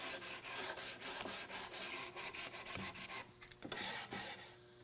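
A sanding block rubs back and forth over furniture legs and stretchers in quick, regular strokes, a dry rasping scrape repeated over and over, close and clear.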